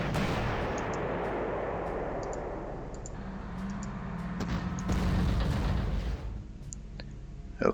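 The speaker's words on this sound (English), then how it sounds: "artillery." Artillery fire in a World War II strategy video game, heard as a steady dense rumble of distant guns with scattered sharp clicks and a louder burst around the middle, with no talking.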